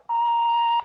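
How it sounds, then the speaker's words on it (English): An answering machine gives a single clean electronic beep, a steady tone just under a second long, loud and alone. "Just wait for that beep"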